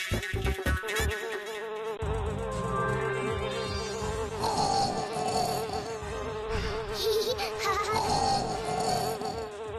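A cartoon queen bee buzzing in a Bengali children's show, a loud wavering insect drone that rises and dips continuously over a tonal musical background.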